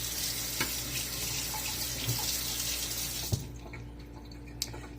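Kitchen tap runs steadily into a sink as something is rinsed under it, a loud continuous water rush that cuts off partway through, leaving a quieter room with a couple of small knocks.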